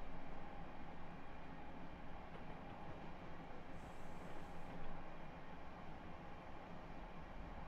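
A train in the Washington-Baltimore route of a train simulator video game runs steadily at speed, a constant broad rumble and rail hiss with no pauses, near and even in level throughout.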